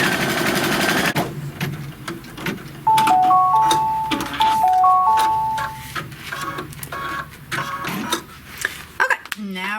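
A sewing machine stitches a tack down on green felt with darker green thread, giving short rattling bursts of needle chatter that start and stop, with people talking over and between the runs.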